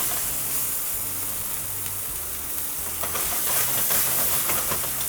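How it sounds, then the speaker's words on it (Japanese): Supermarket steak sears over high heat in a hot pan, producing a loud, continuous sizzle and hiss that stays steady throughout with no voices. "お肉焼くときこの音、必ずこの音鳴ってることが大事です"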